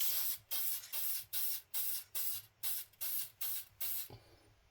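A spray can of clear coat hisses onto a coin ring in nine short, evenly spaced bursts, close and crisp, each sharp puff separated by a brief silence.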